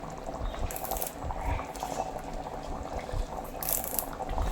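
Kerala-style fish curry in a clay pot bubbling steadily at close range, a continuous soft burble with small pops throughout and no voices.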